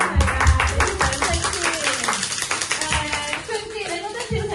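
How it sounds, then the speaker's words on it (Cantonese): Applause for dancers after a dance performance, a brisk stream of close hand claps running throughout with voices and chatter over it. "俾啲掌聲"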